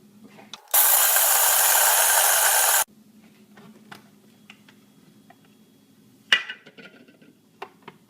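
An electric mixer chops Oreo cookies in one loud, steady whirring burst of about two seconds, followed by quiet clicks and handling noises.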